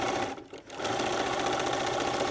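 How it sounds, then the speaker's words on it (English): A sewing machine stitches a coiled rope bowl in a steady, fast whirring run, pausing briefly before the motor picks up again at an even pace. "just backtrack and continue to sew. Sew right over those threads"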